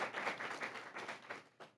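Brief audience applause greets a school board vice president at a board meeting, a faint, distant patter of many hands that thins out toward the end.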